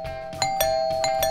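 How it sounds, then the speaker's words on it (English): A doorbell is pressed repeatedly, sounding as a quick series of bright ding-dong chimes that ring out clearly with no talking. "Oh, look, there's a doorbell. Let's try to press it."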